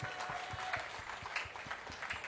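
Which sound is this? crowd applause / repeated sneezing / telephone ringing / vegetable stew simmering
crowd applause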